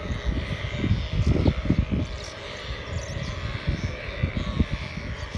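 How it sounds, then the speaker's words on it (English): A dense, rumbling mass of low grunting calls from thousands of saiga antelopes on the Kazakh steppe, continuous and fairly loud, with scattered higher squeaks and rustling over the herd. "that is the sound of thousands of saiga antelopes in Kazakhstan on the steppe"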